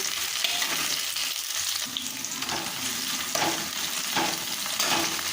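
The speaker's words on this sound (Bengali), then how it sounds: "টমেটো কুচিটা দিয়ে আবার একটু ভেজে নেব।" Chopped tomato frying in a pan with onion already browned to a reddish color for Bengali-style khichuri, a steady close sizzle with soft scraping stirs breaking through at intervals.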